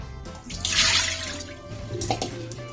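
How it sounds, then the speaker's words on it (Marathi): Water is drained off soaked dried fish in a kitchen, a short close splashing gush that swells in the middle and then tapers into a few small drips and trickles. "या पहिला पाणी काढून टाकायचा"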